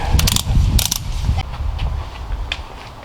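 Up close, a ratchet cranks down valve cover bolts on a Honda K-series engine, loud clicking bursts giving way to slower, quieter ticks as each bolt tightens.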